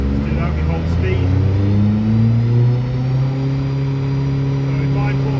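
An Astra H VXR with an EFR turbo conversion runs on a dyno, its engine droning steadily and loudly under load, pitch slowly rising then holding as the rollers restrain it, with a voice speaking over the noise.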